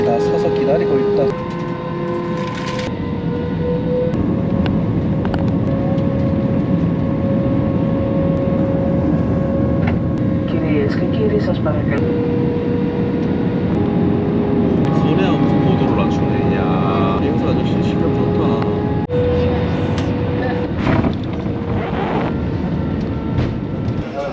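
A small domestic passenger airplane at Santorini airport hums with a steady engine drone throughout, continuous and fairly loud, while people talk over it.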